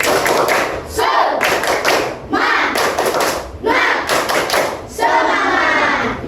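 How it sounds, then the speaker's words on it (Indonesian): A class of schoolchildren performs the rhythmic 'tepuk semangat' clapping chant, bursts of quick patterned claps in four groups separated by short pauses, loud and close in a classroom. "Bapak mulai dengan tepuk semangat"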